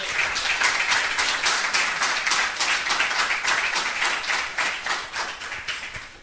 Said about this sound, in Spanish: ¿Cuántos dicen amén y le dan un aplauso a la palabra del Señor?